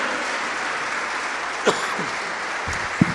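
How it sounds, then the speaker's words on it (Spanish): A church congregation applauds in praise of the Lord, a dense, sustained wash of clapping with a couple of brief shouts rising above it. "démosle palmas al Señor"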